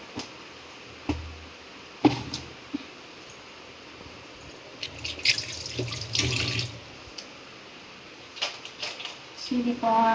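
Water is poured into a pot for a vegetarian sambar-style dish, coming as intermittent splashing bursts at close range, with people talking between them.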